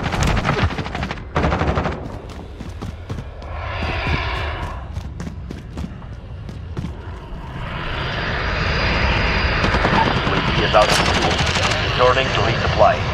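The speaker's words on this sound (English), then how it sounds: "This is an airstrike." An airstrike flyover in the video game Call of Duty Modern Warfare, a jet engine roar building and sweeping loudly overhead amid bursts of gunfire and clattering shots, with radio-style voices earlier.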